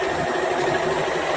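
A sewing machine runs fast and continuously while stitching scrappy mug rug blocks, a close, loud, steady whirring drone with no pauses.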